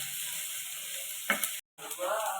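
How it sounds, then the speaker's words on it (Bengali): Grated capsicum, tomato, carrot and paneer fry lightly in a pan, giving a steady close sizzle, a couple of stirring scrapes and a short dropout before the sizzle resumes. "ক্যাপসিকাম, টমেটো, গাজর, পনির গ্রেট করে নিয়েছি। এগুলো সব হালকা ফ্রাই করে নেব।"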